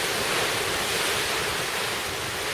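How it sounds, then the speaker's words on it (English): A strong hurricane wind gust roars during Hurricane Maria on St. Croix, with rain bands blowing by: a loud, continuous, broadband rush of wind and rain that stays steady and dense throughout, with no voices. "That was a big gust."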